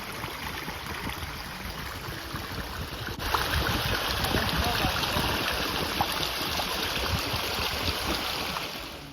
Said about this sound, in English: Water tumbles down mossy rocks, splashing into clear pools